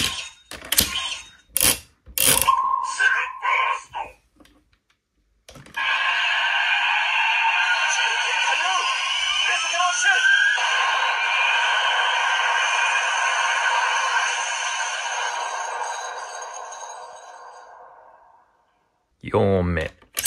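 Electronic finishing-move effect with voice lines from a Kamen Rider Birth CSM belt toy: several quick clicks and brief tones, followed by a long, loud, steady synthetic blast that fades, then a short voiced sound at the end.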